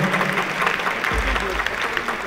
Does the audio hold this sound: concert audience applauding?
yes